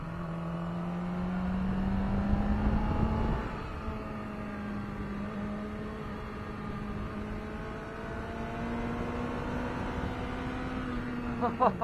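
A Yamaha R6 motorcycle engine pulls hard under acceleration, its close, steady whine climbing in pitch, dropping briefly at a gear change, then rising again.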